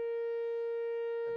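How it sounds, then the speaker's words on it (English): A steady, sustained siren tone from a county tornado warning system, holding one pitch with strong overtones and no talk. "Tornado sirens were introduced during the Cold War."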